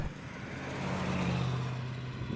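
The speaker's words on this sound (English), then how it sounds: "one of them being the exhaust, which you can hear." A vintage car's exhaust rumbles low and steady at idle, a deep droning hum with a slight swell midway, moderately close.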